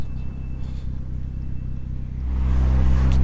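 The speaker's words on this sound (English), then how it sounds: "let's hope we can get some 20 valve noises on the dyno." A 1.8T 20-valve engine in a Mk2 runs on a dyno, a steady low rumble that swells into louder, sustained revving near the end.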